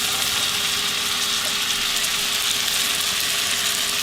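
Mushrooms and onion fry in a pan for old-fashioned Southern Salisbury steak, giving a steady, close, even sizzle that holds without a break from start to finish, with no talking.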